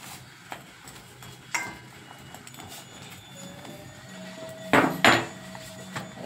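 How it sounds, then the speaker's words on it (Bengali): A knife chops fish on a hard surface in a home kitchen, giving scattered sharp knocks and a louder burst of close cutting and clatter near the end. "মাছ কাটা চলছে এখন।"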